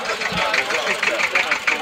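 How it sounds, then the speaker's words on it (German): A tractor engine runs at a steady idle outdoors at a lakeside ice-bet event, its rhythmic mechanical chugging fairly close and continuous, with people's voices mixed in over the engine. "vielleicht kannst du deinen Trecker starten und einmal gucken"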